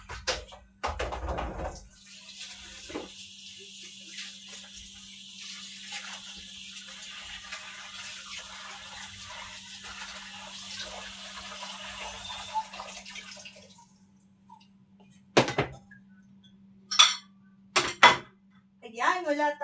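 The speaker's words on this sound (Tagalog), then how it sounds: "hugasan muna natin lahat ng gulay" Vegetables for a budget pakbet and chop suey being rinsed under running tap water in a home kitchen, a steady splashing hiss for about ten seconds, then a few louder clatters and knocks near the sink.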